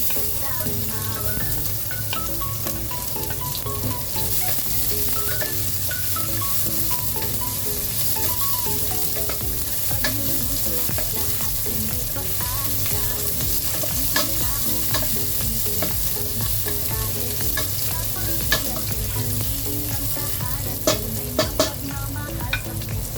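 Garlic sizzling in a hot frying pan for chicken tinola, a steady, loud crackling fry with stirring scrapes throughout, no voices.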